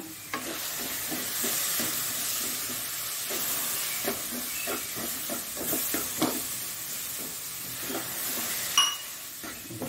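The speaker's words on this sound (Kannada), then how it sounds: "ನೋಡಿಕೊಂಡು ನಾವು ಸ್ವಲ್ಪ ಹಾಲನ್ನು ಹಾಕ್ತಿದ್ದೇನೆ ನಾನು" Milk poured into rava roasting in a pan for rava laddu sets off a steady sizzle and hiss. Repeated scraping and stirring taps run through the sound, with a louder clack near the end.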